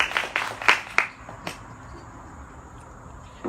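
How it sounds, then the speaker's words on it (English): Scattered clapping from a small audience at a house concert, a few sharp claps up front that quickly thin out into quiet room tone. "Let's give him a big round of applause"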